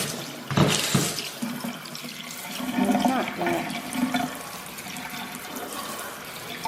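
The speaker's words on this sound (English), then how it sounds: "I just want to make sure the sprayer works" Water runs from a kitchen sink sprayer in an empty apartment, a close, fairly weak splashing stream with a gurgle near the start that keeps on steadily.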